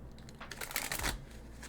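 A deck of tarot cards is shuffled by hand, giving a brief, soft riffling rustle up close in a quiet room.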